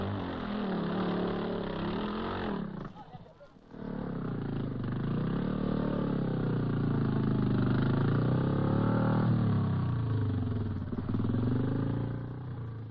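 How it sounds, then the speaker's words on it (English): The engine of a 1950s scrambling motorcycle sidecar outfit buzzes loudly, then stutters out briefly and picks up again, rising and falling in pitch as it labours over rough ground. "Here comes Collier, the only sidecar driver to do the section non-stop, and a splendid effort it is."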